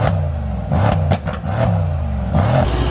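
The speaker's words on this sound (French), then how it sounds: "Ok les gens, on va écouter le moteur, écoutez bien" A million-euro race car's engine rumbles close by, rising and falling in repeated revs with a low, throaty drone and brief clattering transients, and no speech.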